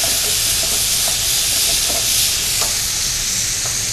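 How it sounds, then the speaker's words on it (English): Steady sizzling and hissing of chicken sautéing in a hot pan, with a few faint stirring clicks, close by and continuous. "And just let the chicken saute just a little bit longer."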